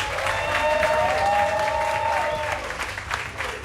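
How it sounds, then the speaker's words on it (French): Studio audience on a French TV show applauds loudly, a dense sustained wash of clapping with cheering, steady and strong before easing slightly near the end. "on l'applaudit très fort"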